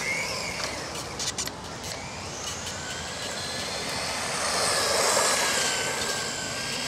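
Nitro engine of an RC truggy, an HB D8T Vorza, held at three-quarter throttle, a continuous buzzing drone that slowly rises and swells in loudness as it runs outdoors, with faint wind noise and no talk.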